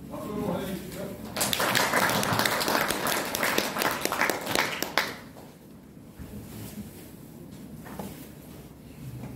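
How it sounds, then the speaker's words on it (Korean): A room full of people applauds to welcome a guest speaker at a Korean branding talk, a dense burst of clapping that rises, holds steady for a few seconds and then fades out, leaving a low murmur of room noise. "박수로 환영해주시죠"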